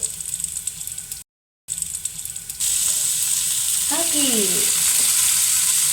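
Chopped tomatoes dropped into a hot pan with chillies for a tomato gojju, sizzling and frying loudly and steadily, the hiss growing stronger after they go in, with a brief stir and a short silent gap.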